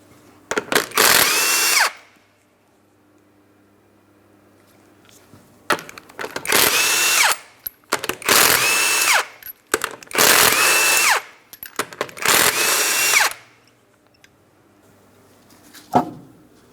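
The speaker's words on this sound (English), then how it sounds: "to remove the wheel, remove all 5 of your 21mm lug nuts" Impact wrench or power drill spinning off the five 21mm lug nuts on a 2011-2026 Mitsubishi Outlander front wheel, five loud close whirring bursts of about one to two seconds each, separated by short quiet gaps.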